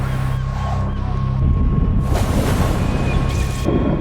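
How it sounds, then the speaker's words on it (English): Strong wind rumbling and buffeting at an outdoor concert stage during soundcheck, a constant low roar with a faint steady hum underneath, no speech. "Pretty fucking windy up there."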